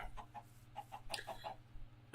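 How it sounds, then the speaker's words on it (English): Chickens on a Minecraft farm cluck in quick, repeated bursts over a steady low hum of game ambience, faint and close, with no one speaking. "Now I only have 16 chickens in here"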